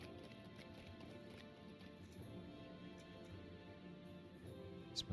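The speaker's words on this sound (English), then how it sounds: "Am I supposed to be riding a horse through your halls, Thorin?" A horse in the online game Lord of the Rings Online clops along at a steady trot, its hoofbeats soft and evenly paced under quiet game ambience, with a couple of sharper knocks near the end.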